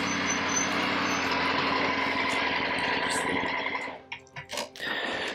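Triumph Tiger 900 GT Pro motorcycle engine during a ride: a steady, fairly loud engine drone with wind rush that eases off and dips unevenly near the end.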